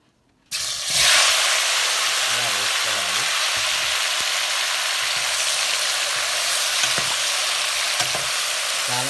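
Tomato pieces drop into warm oil for chutney and start a sudden loud sizzle that holds steady and close, with occasional soft stirring taps.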